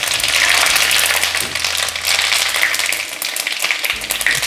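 Cumin seeds sizzling in hot mustard oil for an Uttarakhand mountain-home dish, a steady bright crackling hiss that runs throughout at close range, with no talking.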